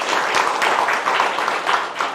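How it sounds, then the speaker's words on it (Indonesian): Audience applause for Mami Nunung at an Indonesian women's Kartini stage event, a steady, dense wash of many hands clapping that holds an even level throughout. "Kita berikan tepuk tangan yang luar biasa untuk Mami Nunung."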